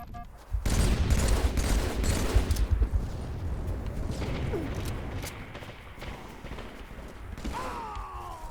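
Sustained rapid gunfire from a multiplayer shooter video game streamed on Xbox Cloud, with dense overlapping bursts and booms, loudest early and continuing steadily, ending with a rising electronic whine.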